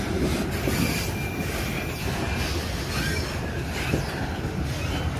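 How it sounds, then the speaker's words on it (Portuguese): A train pulled through downtown Maringá, Paraná, with a locomotive at the tail, passes close by in a loud, continuous rumble of wheels and cars, with faint rail squeal and clatter and no talking. "Uma locomotiva na cauda."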